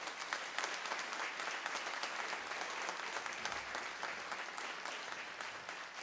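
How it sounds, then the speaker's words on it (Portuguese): Warm, sustained applause from an audience at a formal ceremonial session of a state legislature, dense steady clapping filling the room with no voices on top. "a quem peço uma calorosa salva de palmas"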